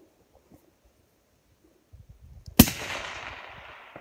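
A single sharp rifle shot cracks loud and close at a 500 m shooting range, ringing out with a long fading tail, after quiet low murmurs and rustling.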